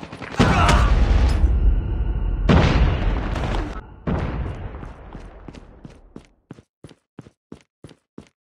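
Grenade explosion in Call of Duty Mobile: a loud booming blast with a long rumbling tail, followed by a second burst, then a run of sharp, evenly spaced footstep-like clicks as it fades.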